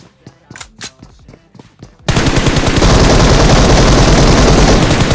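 Bursts of video-game gunfire from BGMI, including AWM sniper shots: a few sharp separate shots, then a loud continuous rapid barrage of fire.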